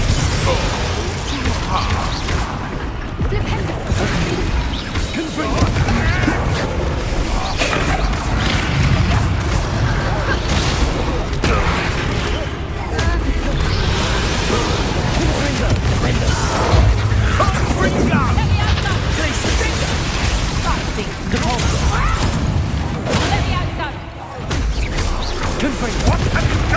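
Confringo and Flipendo spell blasts go off in Hogwarts Legacy, loud booming and crashing impacts layered densely over continuous game action, with voices shouting over the din.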